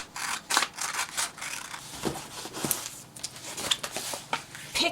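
Scissors snipping through a paper sewing pattern piece for a zippered pocket, a run of short crisp cuts and paper rustles at close range, irregular in rhythm with brief pauses, no voices.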